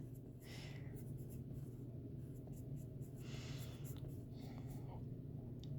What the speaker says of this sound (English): we write our ordered pairs